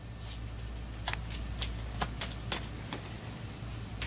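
Card deck being shuffled during an Astro Knights board game turn-order draw, a series of quick riffling bursts repeating at a steady pace over a low room hum, close by.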